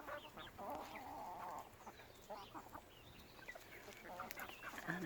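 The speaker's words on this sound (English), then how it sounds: "And that was a Welsummer." A Welsummer hen in a backyard flock clucks and chatters nearby, with a longer run of calls early and scattered shorter clucks later among faint background fowl noise.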